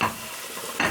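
Tomatoes get stirred into a pot of coconut lentils, giving two brief wet scraping swishes close by with a soft sizzle running between them, and nobody talks.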